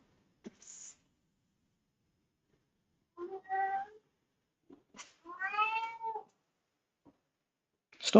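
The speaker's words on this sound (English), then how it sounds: "Go to sleep, kitten." A kitten meows indoors, a few separate plaintive cries close to the microphone over a quiet background, with a short squeak at the start.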